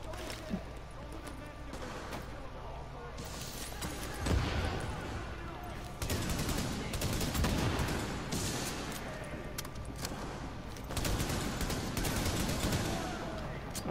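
Gunfire in The Division, including sniper rifle shots, as rapid cracks and bursts of fire at moderate level throughout, with a voice talking at times.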